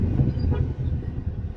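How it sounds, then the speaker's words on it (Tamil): Train passing at a level crossing during a road trip in Tamil Nadu, heard as a loud, steady low rumble of rail cars rolling by close to the microphone, with some wind noise. "ரயில் வராங்க."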